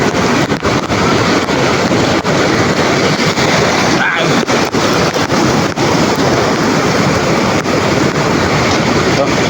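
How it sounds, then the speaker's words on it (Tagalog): Loud, steady roar of wind and surging sea water during a typhoon, constant and close, with heavy buffeting throughout. "halos madadala tayo ng alon"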